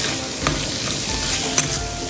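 Vegetables sauté in a pan for pink sauce pasta, giving a steady sizzle with spoon scrapes and a few sharp clinks against the pan, with no one speaking.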